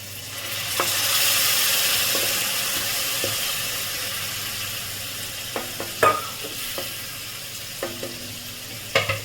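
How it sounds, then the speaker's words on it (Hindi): Water poured into frying tomato masala for an eggplant curry, a rising hiss of steam and sizzle followed by several spoon scrapes and taps against the pan, close and moderate. "अब इसमें डाल देंगे थोड़ा सा पानी।"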